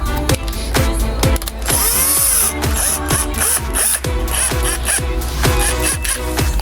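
A brushless cordless drill runs in short repeated bursts while a ceiling fan is being fixed, each burst a close whirring spin with sharp ticks and mechanical rattling between pulses, loud and near.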